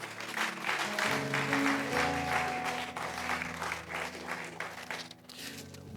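A church congregation claps and cheers in sustained, dense applause filling the whole stretch at an even, lively level.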